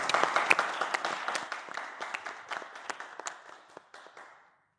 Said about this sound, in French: On va déjà les applaudir très fort, s'il vous plaît.